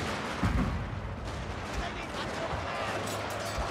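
Musket volleys in a Total War: Fall of the Samurai battle crackle as a rough, continuous din of distant massed shots, with a voice talking over the noise.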